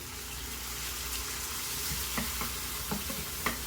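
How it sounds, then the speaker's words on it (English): Mushrooms sautéing in a pan with cabbage and onions give a steady sizzle, broken by several sharp clinks and scrapes of stirring, with no voices. "We've had our mushrooms cooking good"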